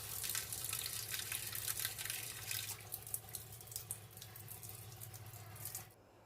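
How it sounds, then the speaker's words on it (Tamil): Running tap water rinses a washing machine filter under the faucet, a steady close hiss and splash with irregular spattering that drops to a quieter flow and then stops near the end, with no voices. "ரன்னிங் வாட்டரில் இந்த மாதிரி நல்லா க்ளீன் பண்ணிக்கோங்க."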